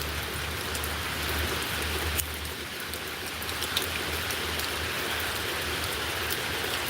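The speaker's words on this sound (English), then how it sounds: "I'm not going out in that rain right now" Heavy rain pours steadily in North Georgia, a dense continuous hiss of drops close by with a low rumble beneath and a few sharper splats, no voices.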